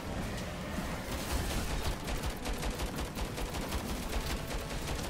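Rapid gunfire from the ChimeraLand video game, a dense continuous volley of automatic shots with crackling bursts throughout, steady and loud with no pause.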